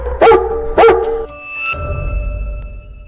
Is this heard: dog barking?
yes